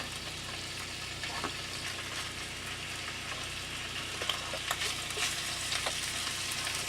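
Thin slices of meat stir-fry in a pan in an RV kitchen with a steady, fairly quiet sizzle, while occasional sharp scrapes and clicks from stirring stand out.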